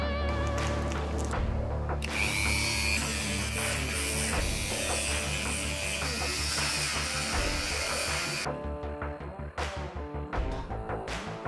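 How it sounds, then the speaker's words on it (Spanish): A high-pitched Dremel rotary tool with sanding discs whines continuously, grinding against a 3D-printed part, then stops and starts in short bursts near the end. "Después he usado la Dremel con discos de lija"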